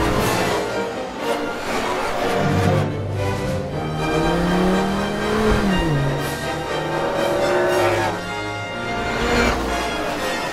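Animated race cars from Cars 3 roar and accelerate through a race, engine pitch rising and sweeping past loudly, with dense layered motor noise and a brief tire squeal throughout.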